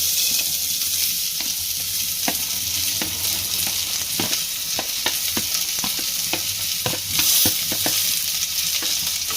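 Chopped onions for squid curry sauté in a pan, a loud, constant hissing sizzle with frequent scraping stirs of a spoon cutting through it, close and uninterrupted by talk.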